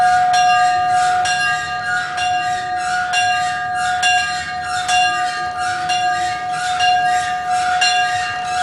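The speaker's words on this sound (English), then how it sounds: "His father ringing the bell for the first time." A church mission bell is struck steadily, roughly once a second. Its clear, sustained ring overlaps from stroke to stroke, loud and close.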